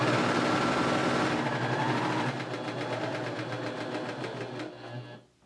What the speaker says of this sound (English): So now I'm going to go ahead and just start sewing.